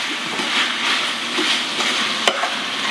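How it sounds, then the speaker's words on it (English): Lemon garlic shrimp pasta with fresh thyme and tomatoes is tossed in a hot pan, giving a steady close sizzle and stirring scrape, with one sharp knock of utensil against pan near the end. "Now I'm gonna toss this around real nice"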